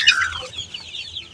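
Backyard laying hens cluck close by in one short burst that tails off into quieter farmyard sound.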